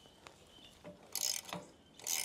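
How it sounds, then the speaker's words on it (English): A 13 mm spanner wrench works a kickstand locking nut on a motorcycle, faint close metallic ratcheting clicks and scrapes in a few short bursts. "So I'm going to use my 13 millimeter spanner wrench here to remove that."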